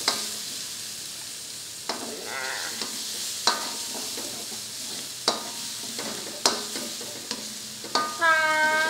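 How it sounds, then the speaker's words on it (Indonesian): Spice paste for meatballs is stir-fried in a pan, a steady sizzle under repeated sharp scrapes and clinks of the utensil against the pan at irregular intervals, close and alone. "Terus tinggal kita masukin bumbunya deh. Terus kita gongseng kayak gini."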